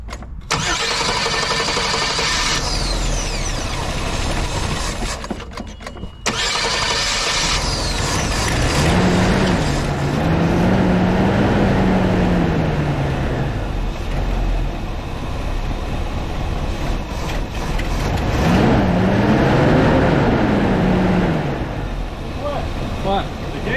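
A 1984 Jeep engine cranks briefly, catches and runs loudly up close, rising and falling through two revs while people talk nearby.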